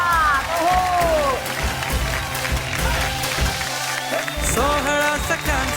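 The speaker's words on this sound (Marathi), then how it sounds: "जोरदार टाळ्या." Sustained applause from a studio audience at a televised women's game show, a steady dense clatter of many hands that continues under music and a voice throughout.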